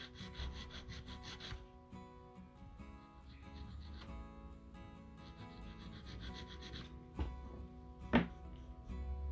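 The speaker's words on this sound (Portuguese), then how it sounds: "Vou focar a minha lixa nela." Sandpaper rubs over fiberglass, focused on a slightly drooping edge of a C-curve piece, in soft repeated scraping strokes close by with a sharper knock near the end, no talk.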